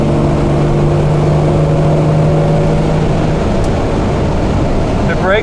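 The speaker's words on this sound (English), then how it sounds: "Strong motor. It revs nicely." A 1958 Jaguar XK150 3.4-litre fixed-head coupe's engine revs strongly while driving, its steady loud drone holding pitch then dropping away, close and continuous throughout.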